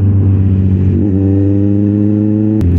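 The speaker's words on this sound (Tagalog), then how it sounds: "what traffic naman na dun" A car or motorcycle engine idles loud and close in Philippine road traffic, with a steady low drone that shifts pitch about a second in and then cuts off near the end.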